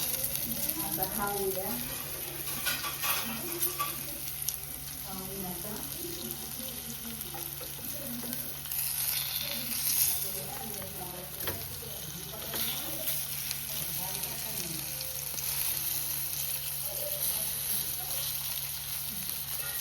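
Fish frying in a pan for a Malvani-style Konkan fish curry, a steady soft sizzle and crackle that runs throughout beneath a speaking voice, with occasional stirring and light clinks.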